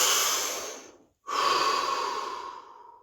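One deep breath taken close to the mic during a practice session: a long airy inhale, a short pause, then a long steady exhale that fades out, with no talk.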